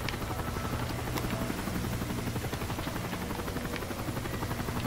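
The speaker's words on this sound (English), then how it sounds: "Nice. Helicopter." Steady, loud rotor thumping and turbine whine from a helicopter hovering close by in the shooter game Call of Duty: Modern Warfare 3, continuous for several seconds with no voices.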